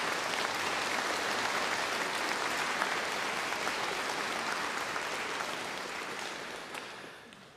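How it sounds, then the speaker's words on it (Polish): An audience at a Radio Maryja family gathering in Zakopane applauds in a dense, sustained round of clapping that holds steady for several seconds and then gradually tapers off toward the end. "myślę, że oklaskami przywitajmy siebie nawzajem"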